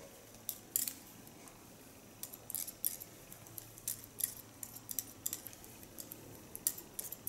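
Steel scissors snipping through hair at close range during a haircut, a quick irregular series of crisp metallic snips and clicks with short pauses between them, no voices.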